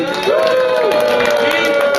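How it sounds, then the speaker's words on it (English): Audience cheering and applause at a Celebrity Squares stage show during the Houston Fringe Festival: a steady, loud wash of crowd noise with a rising whoop or whistle cutting through, sustained for the whole two seconds. "Please give a big round of applause to Willie McGee!"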